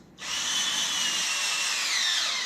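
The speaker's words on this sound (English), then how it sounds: "power drill, because I'm a little bit lazy. Yeah, I take 1/13 and you tight all the 4 bolts" A cordless power drill spins up sharply and whines steadily at close range while driving bolts on a full-track concrete power trowel, holding one continuous run without talk.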